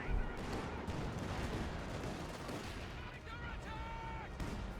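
An IL-2 bombing strike in the Company of Heroes 2 video game: a steady roar of battle noise with dull booms and crackling fire, loud and continuous, with a brief whistling tone rising near the end.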